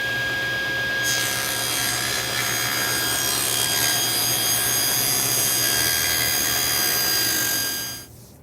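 A table saw fitted with a full-kerf 1/8-inch blade rips a thin wood strip, producing a loud, steady whining cut that lasts about seven seconds before the blade spins down, heard close with no talking.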